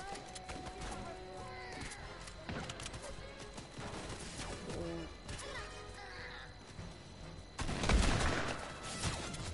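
Gunfire in a PS4 shooter, scattered shots and crashing impacts through a busy game mix, with a louder burst of fire near the end, and game voices in the background.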